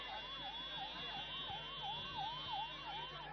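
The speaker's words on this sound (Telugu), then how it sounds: "అంబులెన్స్ వస్తుంది, అంబులెన్స్ కు దారి ఇవ్వాల్సిందిగా కోరుతా ఉన్నాము." An ambulance siren wails steadily through the Lal Darwaza Bonalu festival crowd in Hyderabad, its rising and falling tone repeating evenly and clearly over a low background hum, with no talk over it.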